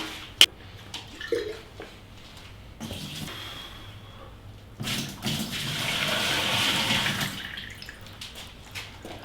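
Water pours into a freshly siliconed seal being tested for leaks, starting after a sharp knock with brief splashes, then swelling into a steady, hissing flow that fades near the end.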